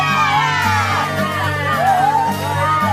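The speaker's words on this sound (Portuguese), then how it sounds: "Pessoas comemorando e aplaudindo." A crowd whoops, shouts and cheers in celebration at news of the BTK strangler's arrest, a loud, continuous mass of voices with yells rising over it.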